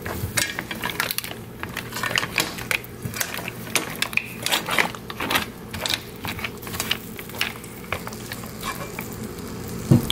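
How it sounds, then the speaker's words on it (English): Shrimp sautéing in garlic butter in a pan, a steady close sizzle broken by frequent sharp crackles, spits and utensil scrapes throughout. "So I'm going to go ahead and saute these shrimp till they get a nice slight pink."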